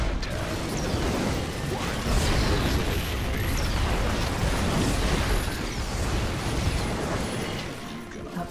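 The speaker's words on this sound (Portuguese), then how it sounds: "Uma granada." Grenade blast amid dense combat in a StarCraft 2 co-op mutation mission, a broad crashing roar with scattered bursts and mechanical clatter sustained throughout at fairly close range.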